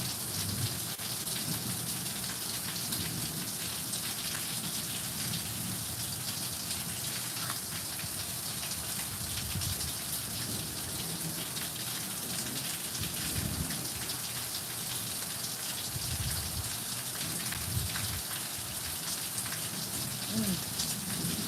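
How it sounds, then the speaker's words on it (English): Continuous heavy rain and storm pour outside, a steady dense hiss with occasional low rumbles of thunder, lasting throughout at moderate loudness with no talk. "They may say that there is no bad weather or storm in the forecast, but when I look, it's storming."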